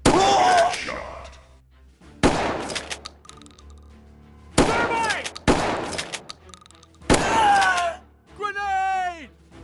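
Gunfire in a shooting video game, with several loud close bursts of shots separated by quieter gaps and echoing tails, and shouted voices mixed in near the end.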